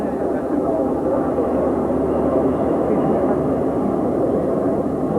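A formation of medium transport aircraft flies over at a 1996 Indonesian Air Force anniversary display, a steady, loud, broad engine roar that holds evenly throughout.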